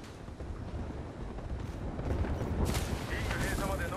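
Gunfire in the battle royale game Apex Legends rumbles as a dense, low barrage that grows louder partway through, with sharper bursts near the end.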